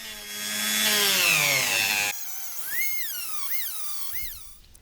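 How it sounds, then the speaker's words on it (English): A small rotary tool burnishes the edges of a leather strap: a loud, steady whine that rises and falls in pitch, then several shorter swooping surges as the tool works along the edge. "I'll burnish the edges with a little rotary tool."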